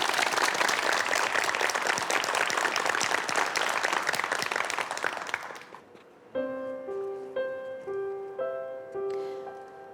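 An audience applauds at a reading event, with loud, dense clapping for about five seconds before fading out, followed by a gentle melodic instrumental passage.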